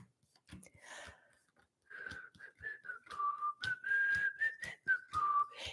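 A person whistles a wandering, unsteady tune at close range in a quiet room, with short breaths and soft mouth noises between phrases.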